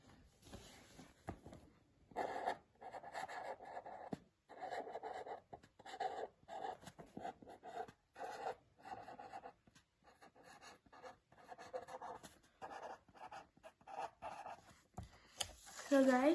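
Sketch pens from a Camel art kit drawing on paper, giving soft scratchy strokes in short bursts, close by, with a person talking over them.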